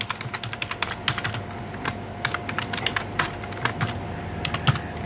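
Typing a backup file name for an ATmega8 chip on a computer keyboard in ProgISP software: a close run of light, irregular key clicks with small bursts and short pauses.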